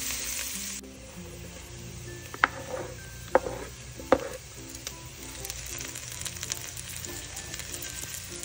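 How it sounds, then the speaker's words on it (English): Chopped onion sizzles steadily in a hot pan, a quiet continuous frying hiss broken by three sharp clinks of a utensil against the pan. "our onion next. Cook it until translucent."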